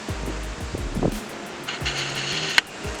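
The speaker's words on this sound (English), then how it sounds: "It's really windy out here" Gusty outdoor wind buffets a camera microphone in low rumbling bursts, with a steady breezy hiss through the middle and one sharp knock near the end.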